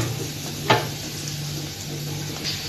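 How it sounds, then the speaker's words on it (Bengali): Eggplant fritters (beguni) sizzle in hot oil with a steady, close frying hiss. A single sharp clatter cuts through early on. "এই যে এখন আমি বেগুনি ভেজে নেব"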